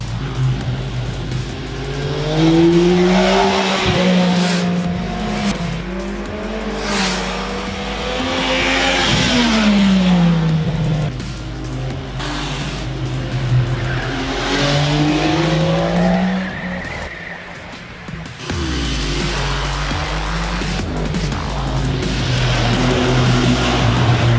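The three-cylinder engine of a 2015 MV Agusta Rivale 800 motorcycle revs up and down through the gears for a long stretch on small back-country roads near Nice, its pitch climbing and falling under steady wind roar, close and loud.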